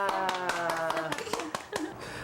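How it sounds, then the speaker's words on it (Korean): A studio audience at a Korean family television show claps in scattered bursts over a steady backdrop of tonal music and voices, the individual claps sharp but partly blended into the mix. "박수 한번."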